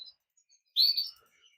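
A male breeding cage bird kept with two females gives one short, high chirping burst after near silence, close and clear with faint tweets trailing off.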